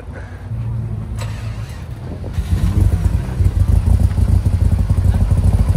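A modified car at a Summernats pre-meet idles, then its engine revs up loudly and holds a deep, throaty rumble close by.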